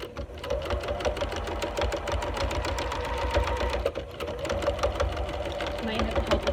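A sewing machine stitches thick fabric for a face mask, a rapid, steady mechanical chatter close by for the whole stretch while a person talks over it.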